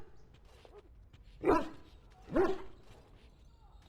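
Dog barking in the Dragon Age: Origins video game, two clear barks about a second apart over faint background game sound.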